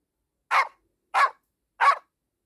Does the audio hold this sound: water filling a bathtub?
no